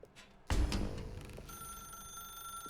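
A telephone rings in The Stanley Parable, a sharp bell-like ring bursting in and then sustaining a steady electronic tone with no talk over it.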